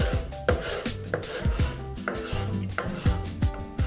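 A knife julienning bell pepper on a cutting board for a stir fry, close, crisp chopping strokes repeating roughly every half second in a steady rhythm, with no talking.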